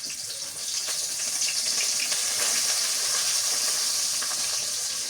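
Bay leaf, whole spices and chopped onion hitting hot oil in a pan give a loud, steady, hissing sizzle at close range that carries on without a break.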